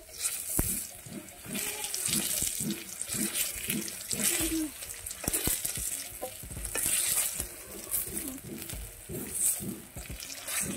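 Fried garlic being mashed with a ladle in a pan for a sour amrul greens dish, repeated rhythmic scraping and pressing strokes over a continuous sizzle, close and steady.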